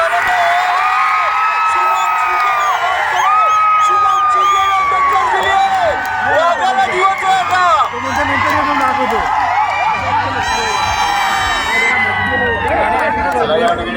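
A large crowd of spectators at a kabaddi grand final match roars and cheers continuously, loud and close, with whoops, shouts and children's voices rising over a dense babble.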